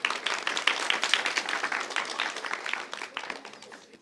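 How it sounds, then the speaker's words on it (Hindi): Lively applause from a gathered audience at a motivational New Year talk, dense clapping that holds for several seconds before tapering off. "तालियां।"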